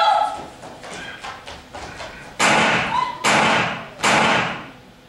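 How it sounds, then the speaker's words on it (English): Three gunshots in a film scene, loud sharp blasts spaced about a second apart, each ringing briefly, following a stretch of quieter voices and faint movement. "Three gunshots rang out."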